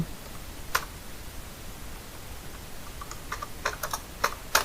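Typing on a computer keyboard while entering text in MS Word, with sparse soft key clicks, a lone tap early and then a quick cluster of keystrokes, faint and close against a quiet hiss.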